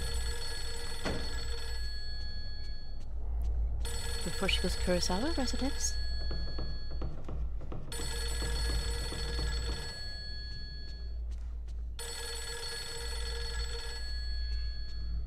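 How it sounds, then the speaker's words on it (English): A telephone rings inside a house in the horror video game Fatal Frame 3, sounding as repeated bursts of electronic bell ringing separated by pauses, steady and clear, while a narrator talks over part of it. "because I'm ignoring the phone, you're all going to have to listen to the ringing for a little bit"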